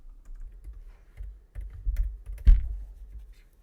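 A few soft, scattered keystrokes on a computer keyboard, close and quiet, tapping irregularly for a few seconds with one sharper click near the end.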